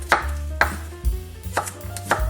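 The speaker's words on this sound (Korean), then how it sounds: "마늘도 이렇게 썰어." Garlic cloves being sliced with a knife on a cutting board, four distinct chops at a slow uneven rhythm, close and clear with no talking.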